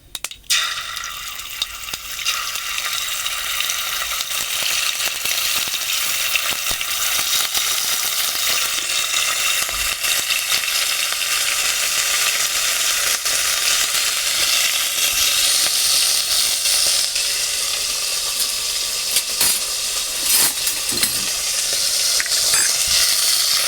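Garlic paste frying in a pan, a loud continuous sizzle with scraping stirring throughout, close and steady.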